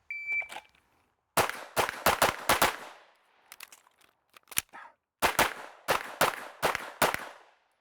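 Timer beep starts a pistol shooting drill, then sharp, loud shots follow in fast strings and clusters with short pauses between groups, about a dozen rounds, close up with no talking.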